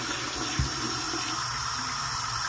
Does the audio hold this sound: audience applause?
no